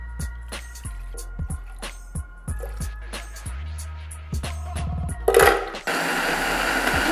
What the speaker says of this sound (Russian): забросить все ингредиенты, кроме эспрессо, в блендер